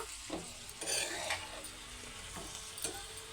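Cabbage being stirred in a pan for cabbage-tomato curry: a spatula scrapes and tosses the shreds in a few sweeping strokes over a low sizzle, close-up and without speech.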